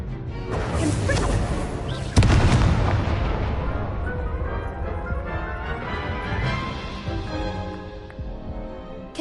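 A Confringo blasting curse explodes in Hogwarts Legacy, a loud booming blast with a sharp crack partway through, then a long rumbling decay that fades over several seconds.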